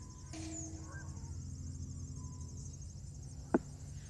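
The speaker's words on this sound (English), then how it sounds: "I'm still hearing those geese. There's some more over there." Geese honk faintly in the distance over a garden, a few short calls near the start, against a steady background of crickets and quiet outdoor ambience.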